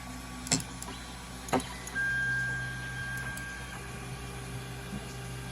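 A 3D printer homes its print bed, producing a couple of faint clicks followed by a quiet steady motor whine and mechanical hum, soft and close in a calm room.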